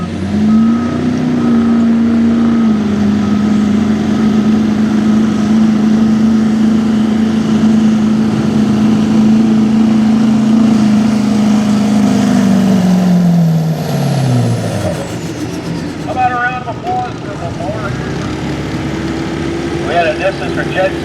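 A diesel 4x4 street truck in a truck-pulling competition holds a loud, sustained engine roar that drops away and fades after about fourteen seconds, followed by a quieter mix of crowd and arena noise.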